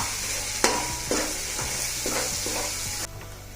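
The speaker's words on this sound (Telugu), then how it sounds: "ఈ టమాటా కూడా బాగా పచ్చివాసన పోయేదాకా వేగిన తర్వాత 1 స్పూను ఎండు కొబ్బరి పొడి వేసి కలుపుకుందాం" Tomato masala fried in a pan for a fish pulusu of bommidala, with dry coconut powder being mixed in: close steady sizzling with several distinct stirring scrapes, and the hiss drops suddenly near the end.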